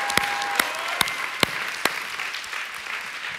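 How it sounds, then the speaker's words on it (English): An audience claps steadily at a church service, a dense continuous patter of hands with a few louder sharp claps standing out, no talking over it. "We need to applaud her."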